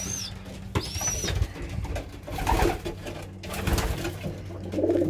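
Pigeons in a backyard loft coo softly and repeatedly in a low, rhythmic murmur, with a few higher bird calls mixed in, close by and steady throughout on a quiet morning.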